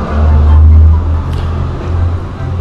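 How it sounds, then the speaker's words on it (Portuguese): A truck passes along the street close by, its deep engine rumble swelling loud and then easing off under light surrounding noise. "Tá passando o caminhão"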